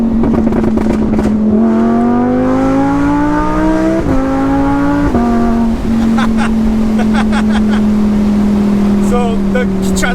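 A Lamborghini Huracan LP-610 engine roars loudly and close, its pitch climbing through revs with sharp breaks at quick gear changes before settling into a steady high-pitched drone.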